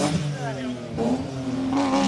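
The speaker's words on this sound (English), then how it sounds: "I got a burnout for me." A classic car's engine revs hard in rising and falling bursts during a burnout at a hill climb event, loud and close, with a commentator talking excitedly over it.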